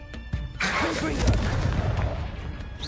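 Confringo explosive spell in the Hogwarts Legacy video game, a sharp thump followed by a loud, rolling blast that fills the clip with sustained crackling rumble.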